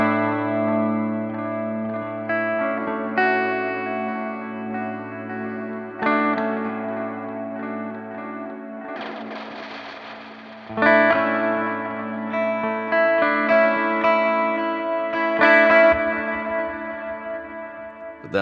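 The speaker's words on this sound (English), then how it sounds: "with the modify is low, you're hearing the actual scattered delays that are in there." An electric instrument runs through a Chase Bliss Mood MkII pedal with the modify control set low. Scattered, shimmering delay repeats stack into a sustained, echoing wash with a noisy smeared burst midway through, and the sound is continuous for about eighteen seconds with no speech.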